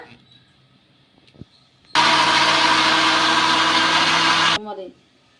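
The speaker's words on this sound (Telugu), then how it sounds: "నీళ్ళు వచ్చేసి ఇప్పుడు మెత్తగా మిక్సీ అయితే పట్టేసుకుందాం" A mixer grinder whirs loudly and steadily for a few seconds while grinding dosa batter for pavala pullatu, a spongy instant dosa, then spins down and stops, with quiet kitchen sounds before and after.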